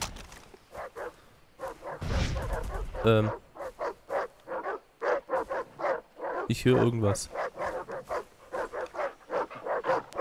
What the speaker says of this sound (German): Hunde!